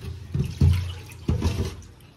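Tap water runs into a sink in uneven bursts, splashing and gurgling close by for a couple of seconds.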